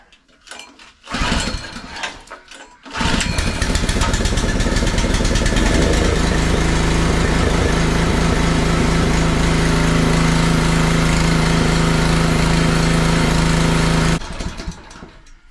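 A small petrol water-pump engine on a farm is pulled into life with a brief cranking burst, then catches and runs loud and steady nearby for about eleven seconds before cutting back, with no talk.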